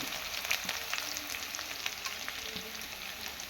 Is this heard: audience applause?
no